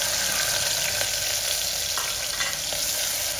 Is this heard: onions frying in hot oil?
yes